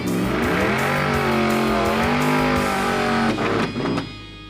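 A truck roars at high revs during a burnout contest, its engine note climbing and holding loud with tire squeal mixed in, then dropping off near the end, with no talk.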